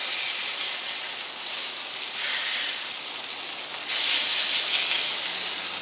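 Thin, smashed-flat Cuban frita burgers sizzle on a hot griddle, making a loud, dense, continuous hiss that swells slightly in two waves, with no voices over it.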